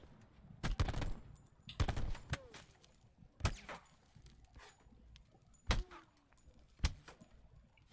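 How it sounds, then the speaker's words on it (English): Gunfire from a gunfight in the Call of Duty video game, with several sharp, loud shots spaced irregularly against a low background of game ambience. "so these are one of the gunfights I was talking about"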